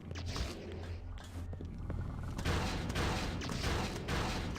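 Automatic cannons firing in the video game Space Hack, a dense rattle of rapid shots and impacts mixed with game noise, continuous and fairly loud through the whole stretch.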